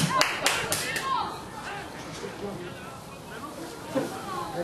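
Spectators clap a few quick times near the start at a youth football match between Helpman B4 and GEO B1, then the claps fade into ongoing field chatter and voices.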